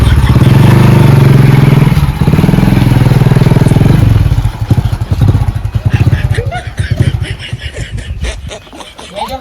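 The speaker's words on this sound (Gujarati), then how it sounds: "આ છોકરો બાઈક લાવ્યો બાઈક" A motorcycle engine rumbles loudly and close, a steady low drone that breaks into a rapid chugging, sputtering rhythm as it moves off and fades slightly, with voices faintly beneath.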